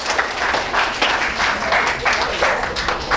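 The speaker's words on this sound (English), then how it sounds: "Give yourselves a big round of applause." Audience at an Amma 75th birthday celebration applauding, dense clapping in a steady wash with rhythmic pulses, lively and sustained for a few seconds.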